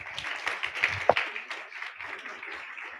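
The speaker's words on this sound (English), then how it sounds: "can we give them a round of applause, please?" A small audience at a cultural event claps for preschoolers about to sing, the applause thin and scattered, fading in and out over about three seconds.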